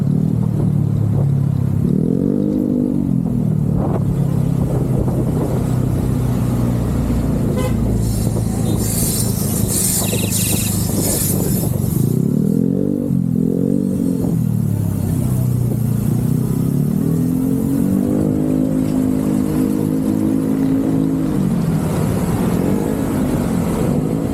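A motorcycle passes on a road during a group bicycle ride near Boso-Boso, its engine note rising and falling in a few distinct sweeps over steady wind rush.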